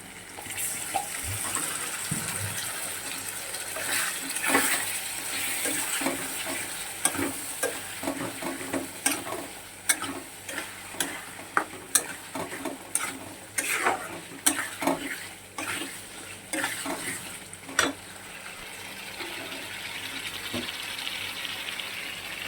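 Chili powder and a green chili fry in a hot pan, a steady sizzle broken by repeated scraping and stirring strokes, close and fairly loud, with no voices.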